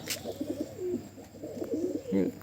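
Several high-flying tumbler pigeons coo softly in low, rolling phrases in a loft, repeating a few times close by, with faint background rustle and a brief sharp flutter.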